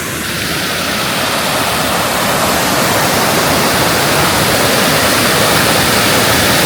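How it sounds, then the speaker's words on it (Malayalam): Water gushing out in front of Sholayar dam roars as a loud, steady wash of rushing water that builds slightly at the start and then holds constant throughout, with no voices. "ഷോളയാർ ഡാമിന്റെ ഫ്രണ്ടിലാണ് ആ വെള്ളം ഇങ്ങനെ ചാടുന്ന"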